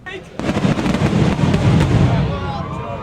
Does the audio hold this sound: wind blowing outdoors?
no